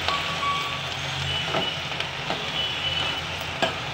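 Amaranth leaves (thotakura) frying in a pan give a steady, fairly loud sizzle, broken by a few soft stirring scrapes and a faint beep in the background.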